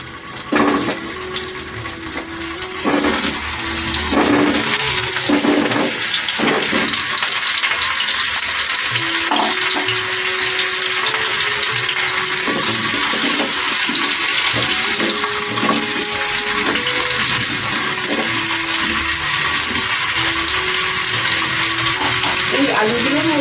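Potatoes drop into hot ghee and sizzle loudly, a bright crackling hiss that spits with the first splashes and then settles into steady frying, with some clinks of stirring and a little background voice.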